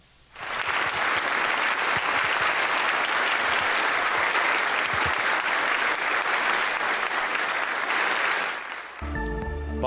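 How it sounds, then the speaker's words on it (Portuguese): Sustained loud applause fills the chamber of the United States Congress after the Ukrainian president's address, a dense steady roar of many hands that fades out near the end. "Palmas de todo o Congresso dos Estados Unidos."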